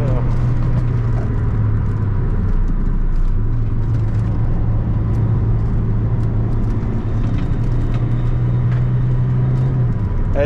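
A BMW estate car's engine rumbles loud and steady from inside the cabin as it accelerates along the Nürburgring during a regularity race, with someone talking over the drone.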